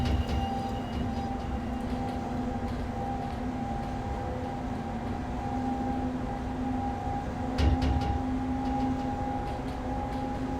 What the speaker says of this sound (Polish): Fajnie słychać stukot kół.